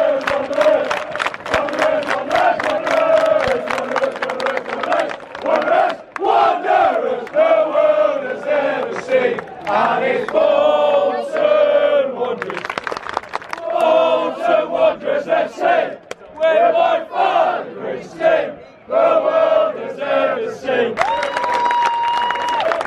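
Bolton football fans clap and cheer in a stadium after a 5-0 defeat against Gillingham, steady crowd applause with shouts running throughout, fairly loud and close.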